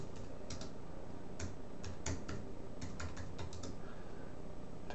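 Someone types a hockey card player's name into a card price-guide site on a computer keyboard, giving a run of close, clear keystrokes in irregular bursts over a low steady room hum, with no talking.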